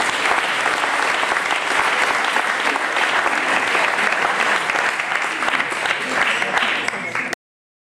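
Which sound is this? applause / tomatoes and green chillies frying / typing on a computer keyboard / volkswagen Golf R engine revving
applause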